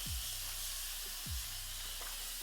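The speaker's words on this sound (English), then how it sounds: "Continuous spray bottle. Spray a little bit of water in my hair." Continuous-mist spray bottle misting water onto hair, a steady airy hiss running throughout, close and soft, with a couple of brief low thumps of handling.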